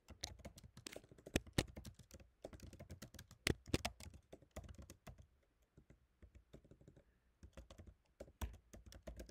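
Quick bursts of keystrokes on a computer keyboard, close and crisp, typed in uneven clusters with short pauses between them.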